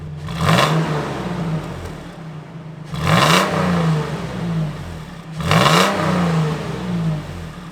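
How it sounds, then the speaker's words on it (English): A V8 Toyota Tacoma pickup with a custom exhaust idles with a deep exhaust rumble and is revved three times, each rise swelling loudly before settling back to idle. "Let's give it some gas, see what it sounds like."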